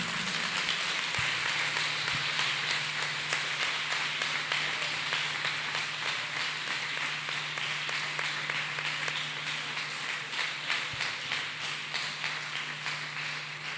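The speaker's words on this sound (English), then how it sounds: "People of God, let us clap hands for Jesus" A church congregation claps hands together in a steady, continuous wash of clapping that is moderately loud and sustained throughout, with a low hum underneath.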